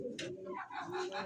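Pigeons coo at a busy pigeon market, several throaty calls close by, repeating in short overlapping bursts.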